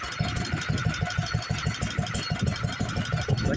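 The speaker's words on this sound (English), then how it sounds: "Speed the engine up considerably if we have to, but just to watch everything turn." Stationary engine driving the overhead lineshaft of a machine shop, running steadily with an even, rapid rhythmic chugging and mechanical clatter close by, no talk over it.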